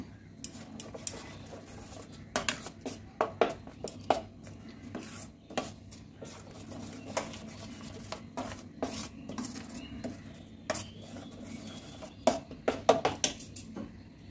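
Chicken pieces being mixed by hand with roasted gram flour (chhatu) for restaurant-style chicken chaap, giving soft irregular squelches and scrapes against a bowl, close and moderately loud, with no talking.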